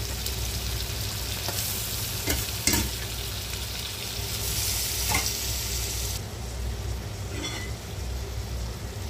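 Spice paste for sambal frying in a pan, a continuous crackling sizzle broken by a few sharp stirring scrapes, close and fairly quiet with no talk.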